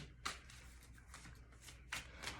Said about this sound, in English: I'm steadily shuffling